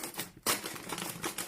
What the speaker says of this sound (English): So first I'm just going to take a scissors